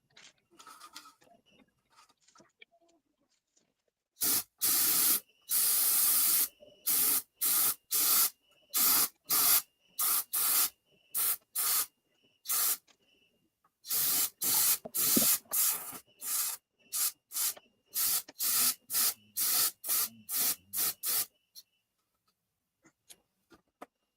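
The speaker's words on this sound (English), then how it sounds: "Het slaat ergens een airbrush op vol." Airbrush spraying during a scale model building session, heard as a series of sharp hissing bursts of varying length, separated by short silences, close and loud.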